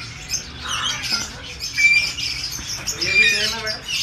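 Small birds in a shop at Lalukhet Birds Market chirp and tweet in quick, high bursts close by, with a few sharper calls and some mixed background noise.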